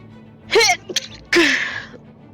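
Two sneezes from a gamer during a Genshin Impact stream: a sharp, fairly loud burst, a tiny catch of breath, then a longer, breathier second sneeze up close, with nothing else around.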